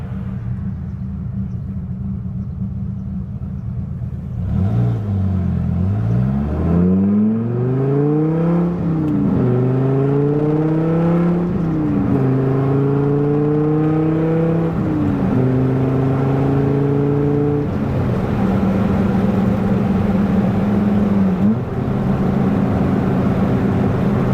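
A 1997 Dodge Viper GTS coupe, a second-generation Viper, pulls hard through the gears with shifts around 4,000 rpm. The loud, close engine note climbs repeatedly and drops at each of about four gear changes, with no talk.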